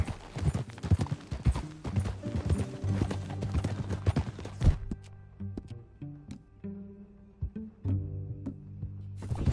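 Steady clip-clop of horse hooves trotting nearby in Red Dead Redemption 2, loud at first, then sparser and quieter steps toward the end.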